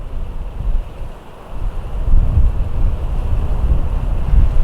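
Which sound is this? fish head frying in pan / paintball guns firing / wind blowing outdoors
wind blowing outdoors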